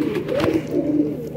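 A Chanda Khani pigeon coos in a steady series of soft, throaty, rolling calls, close by and alone, with no talk over it.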